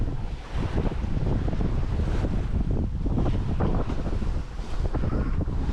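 Strong wind roars steadily across a sailboat on a hot summer day sail, with gusty buffeting and the wash of waves against the hull throughout.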